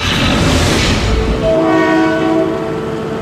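A new Japanese-made Philippine National Railways train sounds a loud, close horn blast, then keeps rolling with steady rail noise and faint tonal squeal.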